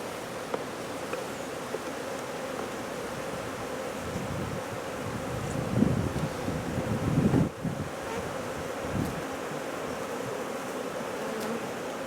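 Honeybees buzz steadily around an opened hive as it is tilted forward, a dense droning hum with louder swells where clusters of bees pass close.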